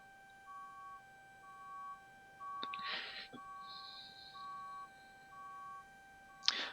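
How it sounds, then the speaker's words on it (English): A reach truck at a building site sounds faint, regular warning beeps in a steady evenly spaced series from some distance, with a few brief rustles and clicks nearby. "I don't know if you can hear the beeping in the background"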